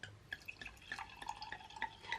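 Wine being poured into a glass, faint close gurgling and dripping with bright liquid splashes in quick irregular bursts, with no talking.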